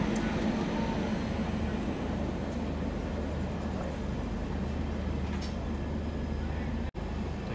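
Inside the Garib Rath Express near Ludhiana Junction, a steady low rumble of rolling coaches and rails continues throughout, with a brief dropout near the end.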